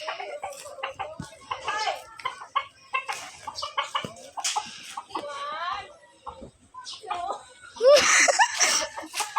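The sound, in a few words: chicken clucking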